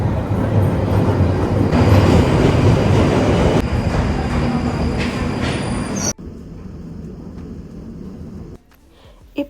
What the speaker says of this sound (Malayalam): അങ്ങനെ നമ്മൾ അവിടുന്ന് ട്യൂബ് എടുത്തിട്ട് ഈസ്റ്റ് ഹാമിലോട്ട് തന്നെ വന്നു കേട്ടോ.